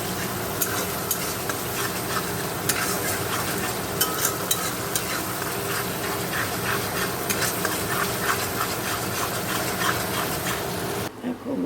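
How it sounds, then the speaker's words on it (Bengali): Cumin seeds and dried red chillies sizzle and crackle steadily in hot oil in a home kitchen, a continuous close frying hiss with scattered pops and a brief stir near the end. "দেখো এই যে তেল দিয়ে দিলাম, এবার ফোড়ন দেবো, জিরে শুকনো লঙ্কা দেবো।"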